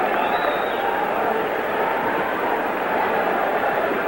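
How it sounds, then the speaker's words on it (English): A boxing arena crowd at a Muhammad Ali fight roars in a steady, dense wash of noise, a constant far-off mass of voices with no distinct individual shouts. "Now you begin to hear the crowd."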